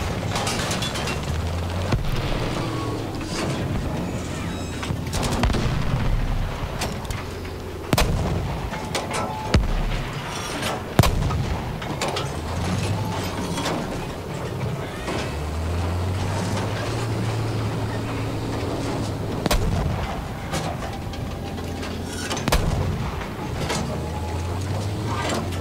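Battlefield V gameplay in a desert map fills with dense gunfire and heavy artillery blasts, sharp repeated cracks and booms over a rumbling background, loud and continuous with no talk.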